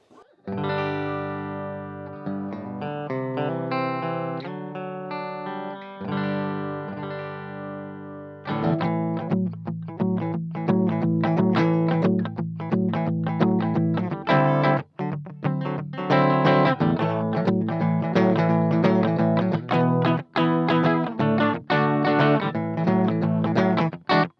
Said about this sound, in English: just listen to the basic clean tone